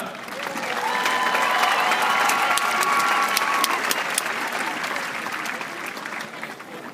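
Graduation audience at the University of Arizona applauding a student speaker, sustained dense clapping from a large crowd that swells and then slowly tapers off.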